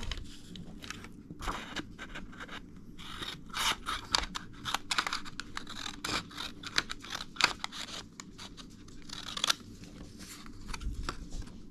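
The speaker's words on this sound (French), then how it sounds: "je vais recouper mon papier parce qu'il est un peu grand" Scissors snip through an oversized sheet of paper being trimmed down for fabric and lace labels, giving a run of close, crisp cutting and crunching strokes at an uneven pace with no talking.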